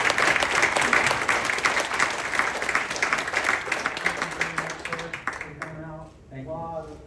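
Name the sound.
applause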